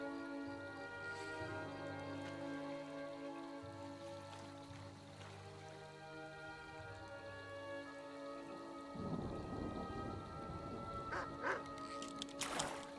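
Steady rain in the video game Skyrim, a constant hiss of drops falling over a wide area, with a low rumble and a brief louder patch of splashing near the end; no talking.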